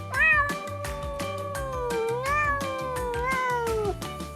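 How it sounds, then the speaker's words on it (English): A cat meows in a long, drawn-out series of tonal calls that rise and fall in pitch, loud and close, set over a soft rhythmic musical backing with no talking. "Cat. Meow, meow."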